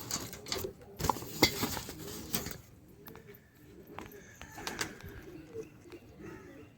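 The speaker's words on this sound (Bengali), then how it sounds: "এই যে টোটাল 5টা পায়রা রয়েছে" Pigeons at home coo softly, with a few sharp wing flaps and clatters early on, then quieter scattered sounds, near and moderate in level.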